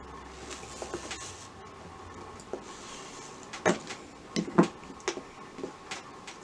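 Viking knit wire chain is pulled through a draw plate, giving a soft, uneven scraping rasp with a few brief squeaky grinding bursts over low room noise.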